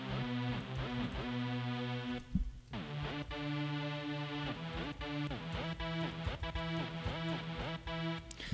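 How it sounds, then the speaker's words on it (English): Classic rap, R&B and hip-hop style synth programmed in Logic, playing sustained chords with a brief dip partway through, then a repeating pattern, heard alone and fairly quiet. "hip-hop type sounding synth,"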